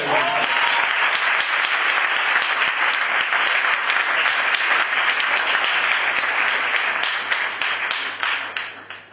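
A church congregation bursts into sustained applause, dense and continuous, then fades out toward the end.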